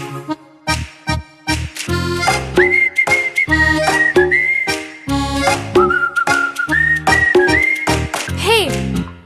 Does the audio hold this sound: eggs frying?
no